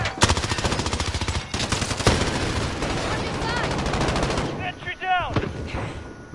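Sustained gunfire in a PS4 first-person shooter: dense, overlapping automatic bursts and heavy shots roar continuously for several seconds, then thin out as a player's voice cuts in near the end.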